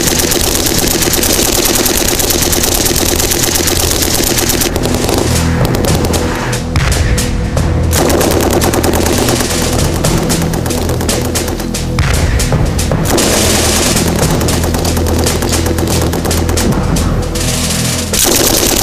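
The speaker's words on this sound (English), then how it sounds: "Devastating combination of mortar and sustained machine gun fire means the enemy are stopped in their tracks" Loud, dense battlefield din: sustained general purpose machine gun bursts rattle continuously while heavy mortar explosions boom repeatedly, forming a thick, relentless wall of gunfire with no speech.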